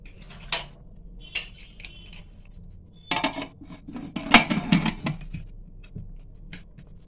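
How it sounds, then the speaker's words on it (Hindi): Metallic clanks and scraping of a pressure cooker lid being handled and fitted into place, a few sharp clinks with quiet room noise between. "अब कुकर को ढक्कन लगा देंगे"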